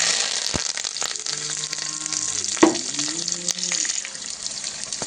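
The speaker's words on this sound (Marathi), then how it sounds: "मोहरी छान तडतडलेली आहे." Mustard seeds splutter in hot oil with green chili and curry leaves for a rice-flour dhokla, making a loud, continuous sizzle and crackle with a brief louder pop. A voice speaks briefly over the frying.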